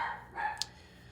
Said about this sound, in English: So the dogs are going crazy out there.